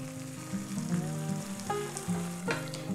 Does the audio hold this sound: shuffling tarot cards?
no